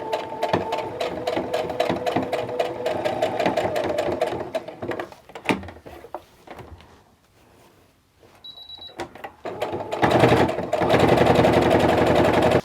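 A sewing machine stitches a tie-on fabric face mask against the pleats in fast rattling bursts, pausing and slowing near the middle before starting up again loudly.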